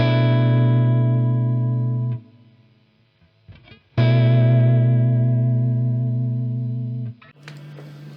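Instrument played through a Walrus Audio Julia chorus/vibrato pedal: two long sustained notes with a wavering, pitch-bending shimmer, each ringing about two to three seconds before fading, separated by quiet plucks and handling noise, no talk.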